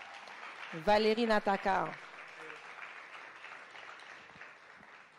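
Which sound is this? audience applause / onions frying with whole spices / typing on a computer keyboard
audience applause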